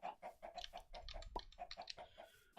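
Chickens clucking in the Minecraft video game, a steady run of short repeated clucks and chirps at moderate level with no talk over them.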